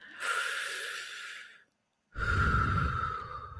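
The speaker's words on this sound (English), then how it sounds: "take a deep breath" A slow, deep inhale and exhale, then a short silent pause and a second, fuller breath, heard close and alone, as during a calming relaxation exercise.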